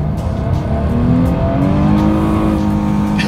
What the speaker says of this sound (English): let's test out the acceleration